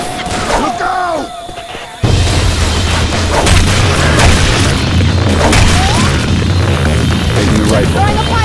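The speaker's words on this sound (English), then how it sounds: "Throwing a pipe bomb!" A pipe bomb in Left 4 Dead 2 going off in a carnival setting, a sudden loud boom after a high beeping, followed by heavy crashing and a sustained low rumble, with voices over chaotic game noise.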